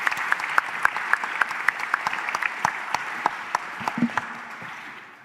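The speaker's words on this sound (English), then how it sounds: "I would like to share a round of applause" Audience applause for conference panelists in a large hall, steady clapping from many hands with a few sharper nearby claps standing out, tapering slightly toward the end.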